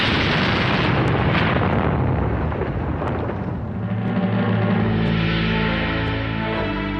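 A 7,000-ton ammunition ship blowing up in the Bombay docks in 1944: a loud, sustained roar of blasts and rumbling, with a low rolling boom building in the second half.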